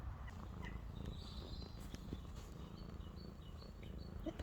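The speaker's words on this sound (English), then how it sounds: "Can you hear him purring?" A soft, steady low rumble of a cat purring close by on a farm, continuous throughout with faint high chirps in the background.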